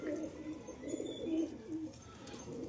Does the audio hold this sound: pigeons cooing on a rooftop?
yes